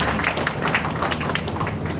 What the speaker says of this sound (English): a big round of applause for you